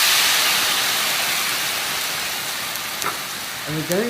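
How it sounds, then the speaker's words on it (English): Brandy hits a hot pan after cooking chicken breast stuffed with sausage and apples, giving a loud, steady broadband sizzle and hiss that slowly fades, with someone talking briefly near the end. "You're going to pour the brandy,"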